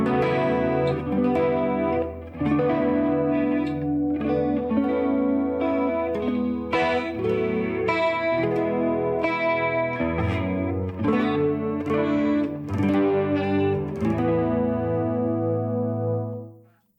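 An electric guitar runs through a CE1-style chorus modulation effect on a NuX Trident pedal, strumming chords and picking lines with a shimmering, slightly gritty wobble. It plays loud and continuous for about sixteen seconds, then fades out with no speech.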